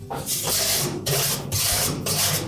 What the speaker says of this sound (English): you can also take a stiff wire brush